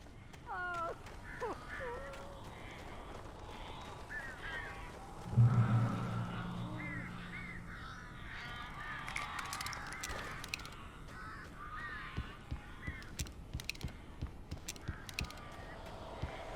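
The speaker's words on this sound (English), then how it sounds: "These birds are weird." Cawing, honking birds in Alan Wake Remastered, scattered calls and flutters over a quiet ambient background, with one louder close burst midway and a voice speaking briefly.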